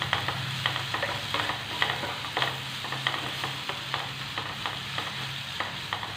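Turmeric and fennel sizzle in hot oil while a spoon stirs the pan, giving rhythmic scraping strokes over a continuous close crackle.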